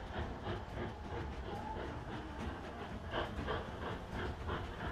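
A lumber train rolls along steadily in the Mashinky railway game, a continuous rumbling clatter with faint rhythmic clicks and a soft hiss throughout.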